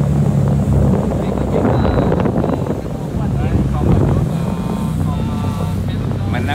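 A 7.5-metre speedboat with a 130 hp 6BH engine runs on a river in the Mekong Delta, a steady close engine drone mixed with rushing wind and water, while someone talks over it.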